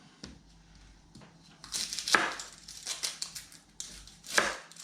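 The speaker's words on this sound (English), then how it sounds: "we'll cut up 480 gram of onion" A knife chopping onion on a board for homemade Thai and Lao sausages, with irregular thuds and sharp cuts coming in quick bursts, clearest in the second half.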